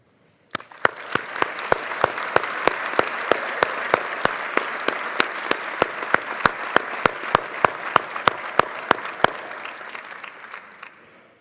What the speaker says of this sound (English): Let's give a round of applause to the staff who assisted with today's ceremonies.